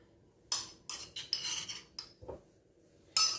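Metal spoon clinking and scraping against a bowl while crushed garlic is stirred, a series of sharp bright strikes in irregular bursts, close and alone.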